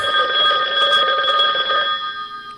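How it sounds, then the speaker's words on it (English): A telephone bell rings loud and steady for about two seconds, a bright warbling trill that stops abruptly, heard alone in a talk show studio. "Is that the phone?"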